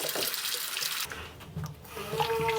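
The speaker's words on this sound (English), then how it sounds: "We'll get some warm water going." Stateroom sink faucet running warm water: a loud hiss of pouring water from a tap, shifting midway into a softer, hollow splashing stream as it fills the basin, close and without speech.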